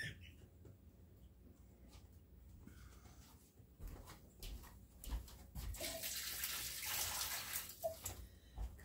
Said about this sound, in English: I'm going to take it over to the sink and I'm going to dump it